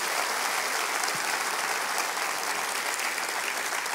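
A church congregation claps their hands together in steady, dense applause, loud and continuous throughout with no voices above it.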